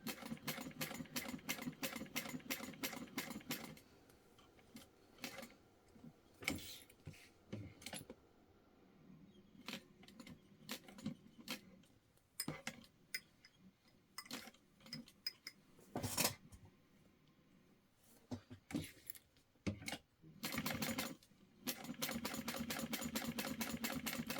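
A sewing machine stitches a zipper onto a small purse, running in loud rapid bursts of whirring stitches separated by short pauses and soft handling clicks, then settling into a long steady run at the end.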